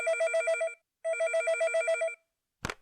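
A telephone rings with two clear, loud electronic trill bursts separated by a short pause, followed by a brief click or clatter like a handset being picked up.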